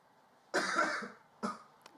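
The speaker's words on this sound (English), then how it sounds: "So he's just standing outside the door, just coughing, it sounds like." A person standing outside a door coughs, one harsh hacking burst followed by a shorter second cough, fairly close and alone against a quiet background.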